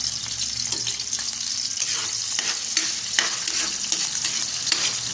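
Garlic fries in oil in a pan, a steady bright sizzle with crackling pops and occasional stirring scrapes, close and continuous without talk.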